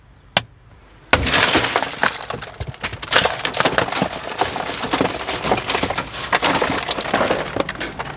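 A car window is smashed with an emergency window breaker tool: a sharp crack, then a loud, sustained crunching and tinkling of shattering glass that goes on for several seconds up close.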